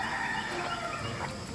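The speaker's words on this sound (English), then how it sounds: "That damn rooster is so funny." Outdoors near a marsh, a rooster crows loudly and close, one sustained call that holds for the whole moment with no talk over it.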